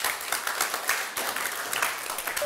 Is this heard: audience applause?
yes